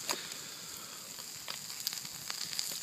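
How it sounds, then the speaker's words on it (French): Trout cooking on a hot stone outdoors sizzles in a steady, soft hiss, with faint crackles and pops scattered through. "Si on regarde sur notre pierre, il y a notre truite qui cuit encore."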